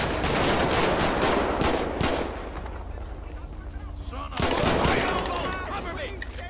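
Loud, dense gunfire crackles in a police patrol video game (LSPDFR, sheriff patrol), with rapid overlapping shots and a couple of sharp bursts, all under someone talking excitedly.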